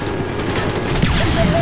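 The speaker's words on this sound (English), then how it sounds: "Who's shooting my ride with AK?" Rapid AK rifle fire in the shooter Call of Duty Black Ops, a loud dense fusillade of overlapping shots with booms, close and continuous with game noise.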